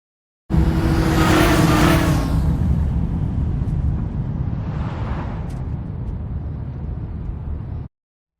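A car passes by with a loud rushing roar that swells early, then fades gradually as it recedes, ending in an abrupt cut.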